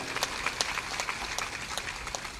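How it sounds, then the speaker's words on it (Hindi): An audience at a Hindi religious gathering claps in a scattered, moderate round of applause, the claps fairly distant and steady throughout. "ताली बजा दो।"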